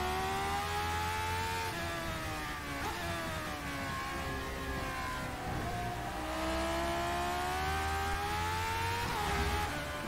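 A McLaren F1 racing car engine in rFactor 2 drones steadily, its pitch rising and dipping through gear changes, with a thin, game-like synthetic tone.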